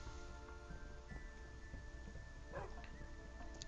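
Dogs in the TerraFirmaCraft video game give small yips and barks, faint and quick, over a steady droning game background.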